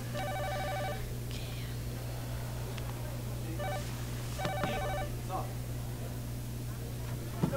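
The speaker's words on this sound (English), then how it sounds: "They're not answering their phone." Telephone ringing unanswered, repeated electronic ring bursts over a steady low hum, fairly faint and distant, with a few quiet knocks in between.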